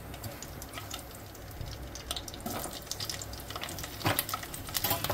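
Cauliflower pieces frying in hot mustard oil in a kadai give off a steady, close crackling sizzle with scattered sharp spits and pops that grow a little louder toward the end.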